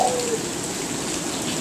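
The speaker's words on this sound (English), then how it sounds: "I caught him in the rain" Steady rain falling outdoors on a fishing trip, a dense, even hiss of drops on surfaces that fills the whole moment without any voices.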